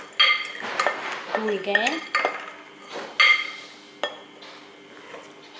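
Soaked brown chickpeas being stirred into tomatoes, salt and oil in a metal pot, with a run of close, sharp spoon clinks and scrapes against the sides and a brief voice speaking.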